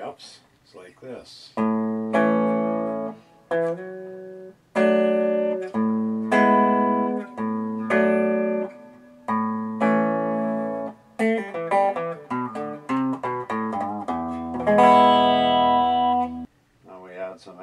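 Dillion electric guitar played with both pickups on, sounding bright, clean strummed chords in a steady pattern of ringing stabs with short gaps, then faster picked runs and a long sustained chord near the end.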